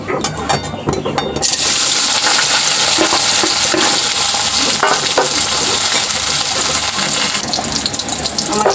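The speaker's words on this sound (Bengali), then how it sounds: "এরপরে ভেজিটেবিলগুলোকে আমি ভেজে তুলে রাখবো" Vegetables frying in oil for khichuri, a steady loud sizzle with stirring clatter, sharper at the start and easing into a dense continuous hiss.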